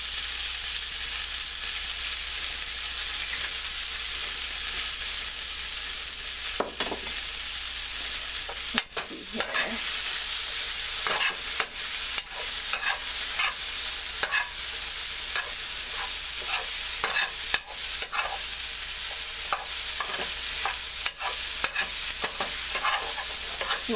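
Vegetables sauté in olive oil with a continuous crackling sizzle, broken by frequent scraping and clacking as they are stirred in the pan.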